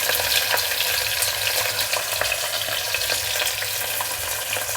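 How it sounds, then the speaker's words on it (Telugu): Sliced onions fry in oil in a pan for mutton curry with a dense, steady sizzle and crackle, close and continuous, and faint stirring scrapes now and then. "అల్లం వెల్లుల్లి ఉల్లిపాయలు పచ్చివాసన పోయేదాకా వేయించుకున్నాము"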